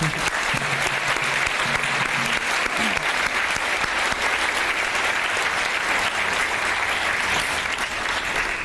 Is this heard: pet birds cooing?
no